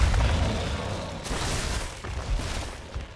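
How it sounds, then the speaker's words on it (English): Flame grenades burst in the Evolve video game, a rolling run of booming explosions with crackling fiery noise that fills the whole span, loud and dense, with small popping hits near the end. "I like seeing those flame grenades coming around."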